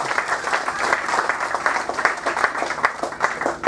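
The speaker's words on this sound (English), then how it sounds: "A round of applause for that man." An audience at a racing owners' club gathering at the BTCC meeting at Oulton Park bursts into close, sustained applause, a thick patter of clapping hands that carries on with no talk over it.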